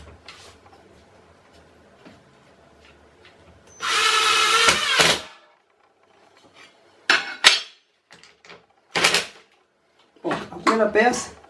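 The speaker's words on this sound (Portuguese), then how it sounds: "agora eu ponho o outro parafuso" Short bursts from a power drill driving screws into wood while assembling a stand for a hand plane, whirring in several separate spurts of a second or so, close and loud, with quiet pauses between.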